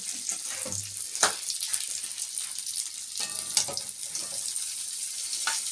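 Cauliflower frying in a wok in a home kitchen, a steady bright sizzle with occasional sharper crackles and clinks, fairly quiet and with no talk over it.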